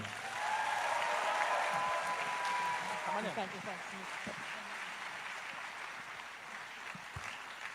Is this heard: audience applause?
yes